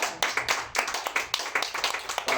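A church congregation claps in quick rhythmic bursts, close and fairly loud, with faint voices in the background.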